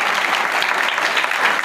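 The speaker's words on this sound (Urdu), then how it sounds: "آئے اس کے لیے زوردار تالیاں" Loud applause from a church congregation fills the room in a dense, continuous burst of clapping lasting under two seconds, with no voices over it.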